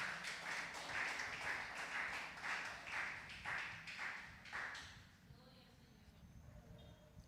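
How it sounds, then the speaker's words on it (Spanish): A church congregation breaks into rhythmic clapping, a run of roughly ten evenly spaced claps fading out after about five seconds, with murmuring voices underneath. "Denle un aplauso al Señor."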